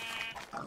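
Pig grunting in the video game Minecraft, a short low grunt or oink that is moderately loud and close, heard alone with no talk over it.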